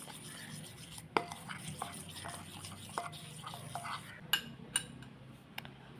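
A utensil stirs and mixes a thick face tan removal pack paste in a small bowl, giving quiet scraping strokes punctuated by several sharp clinks against the container.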